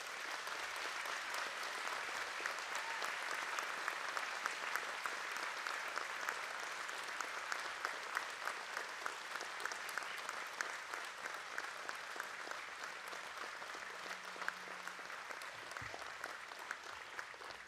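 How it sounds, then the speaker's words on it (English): An audience at an engineering and information sciences graduation ceremony applauds the graduates, sustained even clapping with distinct individual claps, heard from some distance in a large hall. "please join me in congratulating our graduates by giving them a warm round of applause"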